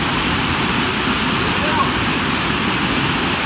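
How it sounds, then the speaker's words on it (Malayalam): A waterfall pours steadily along a rocky forest trail, a dense broadband rush of falling water that stays constant and fairly loud throughout, with no clear voices over it. "അപ്പോൾ ഇതാണ് വെള്ളംചാട്ടം കേട്ടോ"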